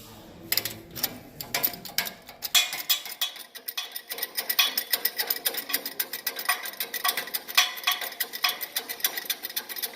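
A shop press lowering onto a pinion bearing to force it off the shaft, giving a run of close, irregular metallic ticks and clicks that quicken as the ram descends.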